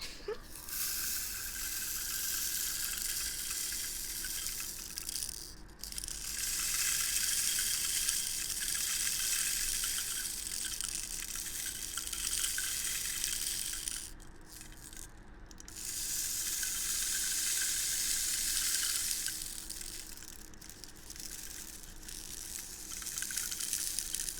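A steady, bright crackling hiss runs throughout, like bacon frying in a hot pan, with a few brief dips where the sizzle quiets.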